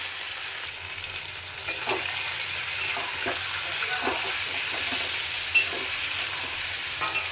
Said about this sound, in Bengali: আমি ভালো করে এবার নেড়ে চেড়ে নেব।